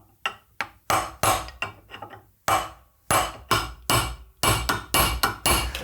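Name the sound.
hammering a chisel to crack open a steering head bearing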